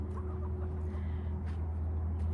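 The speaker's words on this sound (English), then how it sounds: "This last coop has roosters in it." Roosters in a backyard coop cluck softly nearby over a steady low hum, a brief stretch of murmuring fowl sounds.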